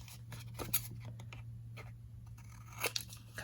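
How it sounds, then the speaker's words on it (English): Scissors cutting diagonally across paper to remove a small corner square while making a die-cut book, several short crisp snips and crunches scattered over a quiet background with a low steady hum. "You're gonna cut this little square out by cutting a diagonal."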